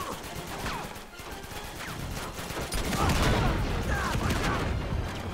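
Enemy gunfire crackles in Uncharted 2, dense bursts of shots and ricochets rolling continuously for several seconds, growing heavier in the second half, with a voice briefly speaking over the battle.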